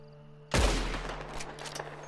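A single loud, booming gunshot in Red Dead Redemption 2 bursts out sharply and rolls into a decaying echo, with a few faint shots or clatters following.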